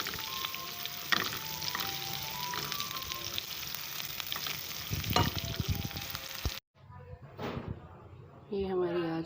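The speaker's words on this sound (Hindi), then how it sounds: "आखिर में इसको मैंने बेगार लगाई है सब्ज़ मिर्च की और ज़ीरे की।" Green chili and cumin seeds sizzle and crackle steadily in hot oil as a tempering over a bottle gourd and lentil dal, with occasional clanks, then a brief quiet gap and a fresh burst of sizzling.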